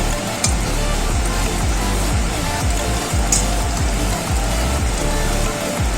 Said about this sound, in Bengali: এক পিঠ মোটামুটি ভাজা হয়ে গেছে, আরেক পিঠে উল্টিয়ে দিলাম।